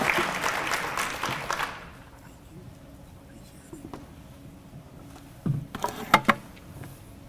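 Audience applause welcoming a school superintendent at a State of the District address, a steady crowd clap that fades after about two seconds into quiet room noise with a few scattered later claps.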